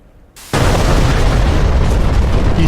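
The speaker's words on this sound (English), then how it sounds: "Using my good old Vicker missiles." Vikhr missile launch from a Ka-50 attack helicopter in DCS World: after a quiet moment, a sudden loud roaring blast that holds as a dense, sustained rush of noise.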